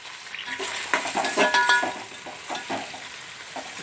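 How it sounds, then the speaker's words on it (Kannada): Ingredients fry in a pan for chilli chicken kushka, giving a steady sizzle with scraping stirs and a few soft clinks of a spoon against the pan, close and moderately loud. "ಚೆನ್ನಾಗಿ ಫ್ರೈ ಮಾಡ್ಕೊಬೇಕು ತಾಳ್ಮೆಯಿಂದ"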